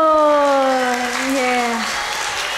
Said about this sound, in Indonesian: Pertanyaannya bagus sekali, tepuk tangan dulu.